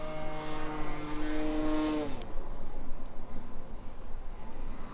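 A balsa RC plane, the 1400mm Bitgo Dancing Wings Stick 3D model, flies overhead with a steady propeller drone whose pitch slides down as it passes, then fades into a broad, continuous rushing hum.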